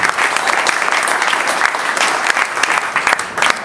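Audience applause at a CD release party: a dense, steady burst of clapping that fills the room, loud and close throughout, with a few scattered cheers in the mix.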